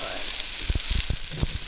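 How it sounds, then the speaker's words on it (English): Onions added to a hot gumbo roux, a steady close hiss of sizzling with a few soft thumps and stirring knocks as they hit the pan. "Okay, so now I'm going to add the onions to it."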